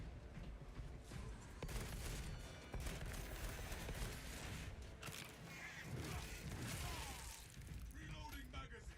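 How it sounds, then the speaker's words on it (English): A plasma cannon firing in Space Marine 2, heavy repeated blasts and crackling impacts over dense battle noise, with a player speaking over the action. "Plasma Cannon is so good."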